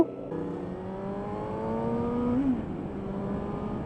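A Suzuki GSR 750 motorcycle's engine revs and climbs in pitch, then eases off with a brief rise and fall, moderately close with faint wind noise, and no talking.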